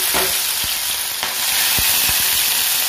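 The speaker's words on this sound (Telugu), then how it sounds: "వేసుకున్న తర్వాత మనము కోసి పెట్టుకున్న ఈ పచ్చిమిర్చి తురుము వేసుకోవాలి" Chopped green chillies dropped into hot oil with cumin seeds, giving a loud, steady, close sizzle broken by several sharp spoon knocks and scrapes against the pan.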